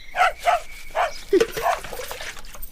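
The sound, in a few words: dog barking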